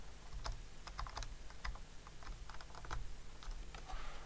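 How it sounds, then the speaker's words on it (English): Quiet, uneven typing on a computer keyboard, with irregular bursts of light key clicks and short pauses, close and soft, with no talking. "Oh, I think it's my keyboard."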